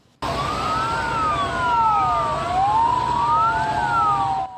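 A fire engine siren wails outside a hospital during a fire response in Taiwan, rising and falling in slow sweeps, loud and steady over a low traffic rumble, with no voices.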